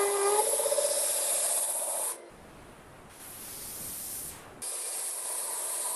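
A belt sander grinds close by with a loud, bright hiss that cuts out to quiet for a moment, returns briefly, drops again, then resumes at full strength.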